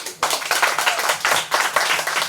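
Applause from a crowd: a steady burst of many hands clapping, loud and close, lasting a few seconds with no talking.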